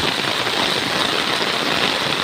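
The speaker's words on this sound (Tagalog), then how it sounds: "sitwasyon natin ngayon sa hapong ito, ulan." Steady rain pours down through an afternoon downpour near a parked vehicle, a dense, even hiss that stays loud and constant without pause.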